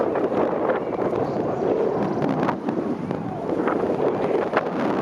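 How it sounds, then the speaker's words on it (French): Steady rushing wind roars across the microphone while paragliding, a dense, continuous buffeting noise with slight surges and no voices. "Avec le vent qu'on se prend"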